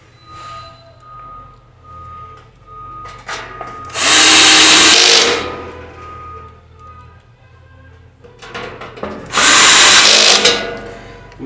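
A power drill tightens screws into the frame of a Char-Broil Performance Series 4-burner gas grill during assembly, two loud whirring bursts a few seconds apart over quiet workshop background.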